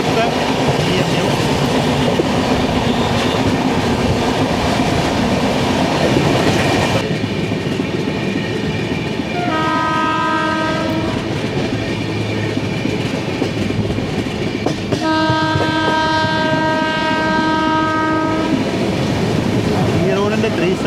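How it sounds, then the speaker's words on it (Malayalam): A 37435 Sangamithra Superfast Express, running from Danapur toward SMT Bangalore, rumbles and clatters past close by, with steady wheel and carriage noise and two sustained horn blasts partway through. "37435 ആപ്സ് സംഗമിത്ര സൂപ്പർഫാസ്റ്റ് എക്സ്പ്രസ് ആണ്"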